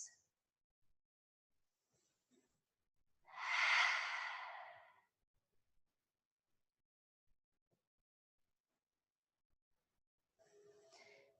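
One long, audible breath during a yoga side-lunge and straddle stretch, a soft airy exhale standing alone in near silence, followed moments later by a faint shorter breath.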